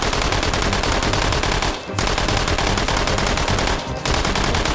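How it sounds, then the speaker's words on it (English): Loud sustained full-auto bursts from an Uzi fitted with a drum magazine in the VR shooter H3VR, two long continuous strings of rapid shots separated by a brief pause, with no talking. "If you always wanted to fire an Uzi and figured it doesn't have enough rounds in the mag, well, this drum magazine's for you"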